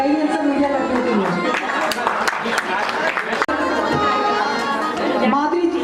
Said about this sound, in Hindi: इनके लिए जितनी ज्यादा आप तालियां बजा सकते हो उतनी बजाइए